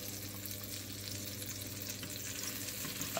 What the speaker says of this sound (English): First, I put some butter in the pan. When the butter melts,